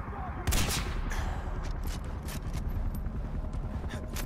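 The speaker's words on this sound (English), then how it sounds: "I know how to dodge sniper shots" Sniper fire rings out in the Himalayan setting of Far Cry 4. A dense, steady run of sharp shots and crackling reports fills the whole stretch at moderate volume.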